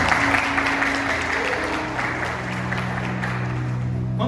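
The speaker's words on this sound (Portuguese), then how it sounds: "Um aplauso ao Senhor." A church congregation applauds in praise during a service, a sustained wash of clapping with a low hum underneath, fairly even throughout.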